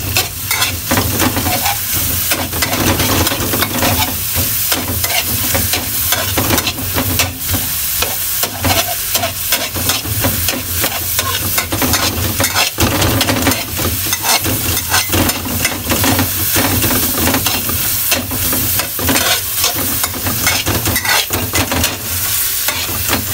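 White onions frying in a pan over medium heat, a loud, dense, unbroken sizzle close by with constant crackle and spatter throughout.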